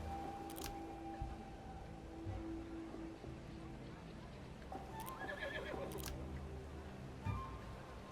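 Horses neigh and whinny in the strategy video game Ara History Untold, with short whinnies rising over faint clip-clop and ambient game sounds, fairly quiet overall.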